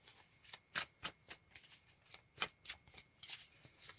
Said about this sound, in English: I'm not going to shuffle like that because I'll blow those cards everywhere